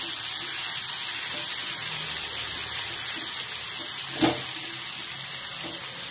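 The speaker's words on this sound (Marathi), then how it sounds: "टोमॅटो टाकून परतू म्हणजे कांदा आणि टोमॅटो दोन्ही बरोबर परतल्या जातील" Onion and tomato sautéing in a pan, a soft, steady hiss of frying close by, with one brief clink partway through.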